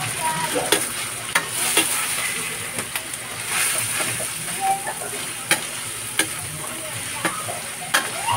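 Ground pork frying and being stirred in a pan for sotanghon, a steady close sizzle broken by repeated sharp scraping stirs, heard alone.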